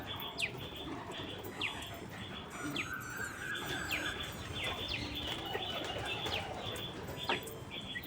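White pigeons coo softly and flap their wings nearby, with brief wingbeat bursts, chirps and scuffling over steady background noise.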